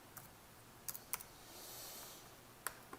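Someone typing a measurement on a computer keyboard: a few faint, scattered key clicks, sharper taps at irregular intervals over a quiet room background.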